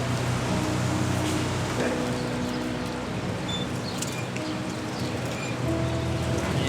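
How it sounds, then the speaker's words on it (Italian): Rain falls steadily over the wet Nardò race track, a dense, even hiss of drops and spray that holds throughout with no clear voices. "c'è una zona che è fortemente bagnata, sta piovendo"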